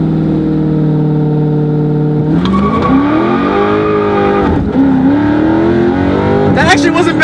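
A 2016 Dodge Charger 392 Scat Pack accelerates hard with some wheel spin, its engine roaring loud and rising through the revs, then shifting and pulling again, with a voice talking over it.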